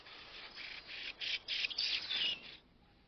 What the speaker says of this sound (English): And the circumpolar Lapland bunting